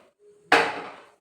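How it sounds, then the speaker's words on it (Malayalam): A frying pan is set down on a gas stove with a single sharp metallic clunk that rings briefly and fades, close and loud in a quiet kitchen. "ഒരു ചട്ടി ഗ്യാസിന് വെക്കാം."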